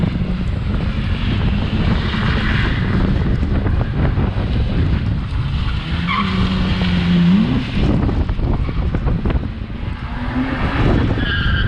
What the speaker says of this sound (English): Looks like he's spinning out a little easy there.